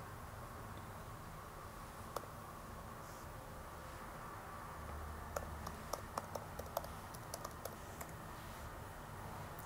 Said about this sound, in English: So YouTube, type in a search, Exploding Chemistry Patrick Lloyd